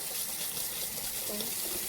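Water runs steadily from a kitchen faucet through a filter, a continuous close hiss of flow lasting about two seconds.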